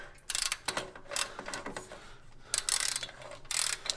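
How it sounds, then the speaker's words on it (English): A torque wrench tightens bolts on a Jeep ZJ's 4.0 engine during an overhaul, giving short bursts of ratcheting clicks in several quick separate runs, close and fairly quiet. "So got our handy dandy torque wrench here."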